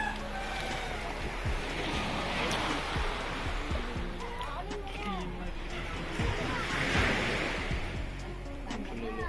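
Strong ocean waves rush against the shore in a steady broad roar with swelling surges, mixed with faint bird calls and people talking in the foreground.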